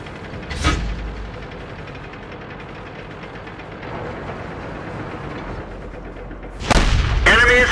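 Tank cannon fire in the World of Tanks video game: two heavy booming shots, one near the start and one near the end, over a steady rumbling engine drone, with no voices.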